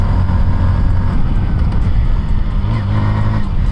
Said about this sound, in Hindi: करते हैं बाइक को लॉन्च, लेट्स गो